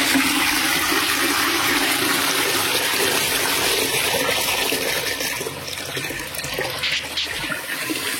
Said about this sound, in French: Donc on n'a plus qu'à tirer la chasse d'eau.